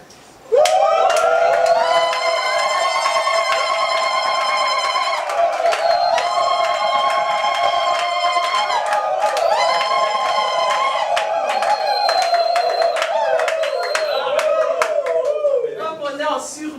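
A church worship congregation keeps up rhythmic clapping and loud, sustained sung shouting, with several voices carrying steady tones above the hand claps for the whole stretch.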